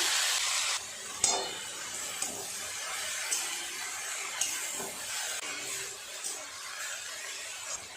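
Red amaranth greens fry with onions in a pan, producing a steady hiss and sizzle. Occasional soft scraping knocks of a spatula stirring recur every second or so, with no talking.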